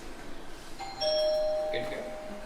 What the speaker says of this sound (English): I'm gonna hit your doorbell while we're over here.